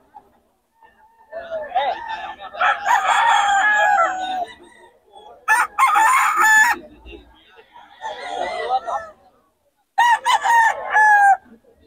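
Roosters at a chicken sale crow in four loud, close bursts with brief clucks between them, separated by short pauses of quiet.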